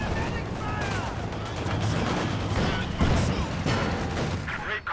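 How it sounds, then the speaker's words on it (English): Mortar fire and other gunfire in a multiplayer real-time strategy battle, dense overlapping shots and impacts with one sharper thump near the middle, continuous battlefield noise throughout. "Mortar getting to work."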